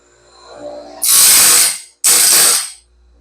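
Grinder working on the weld of a Norwood Stellicut bandsaw blade: two loud, harsh bursts of abrasive grinding, each about a second long with a brief gap, close up and with no talk.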